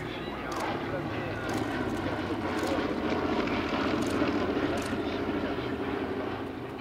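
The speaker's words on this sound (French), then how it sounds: "Puis le B-17 à un certain moment va virer à gauche en laissant un panache de fumée derrière lui" Boeing B-17 bomber flying past at an airshow, a steady broad engine drone holding at moderate loudness throughout, with voices talking over it.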